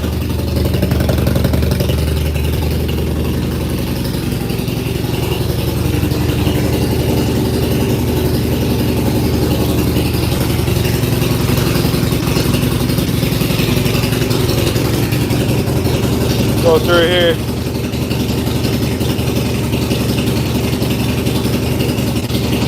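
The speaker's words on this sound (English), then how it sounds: "Bike sounds lovely." A motorcycle engine idles steadily and close by for the whole stretch just after a primary fluid change, a low continuous rumble with a brief voice and a short whistle-like sweep partway through.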